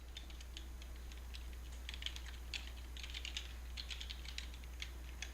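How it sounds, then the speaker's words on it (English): Quiet, rapid typing on a computer keyboard as account details are entered, irregular key taps pattering over a low steady hum with no talk. "Enter in your account details."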